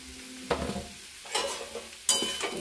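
Spatula stirring a spinach ghonto in a pan with sprinkled fried spice mix, three scraping bursts with quiet gaps between, near and alone with no talk.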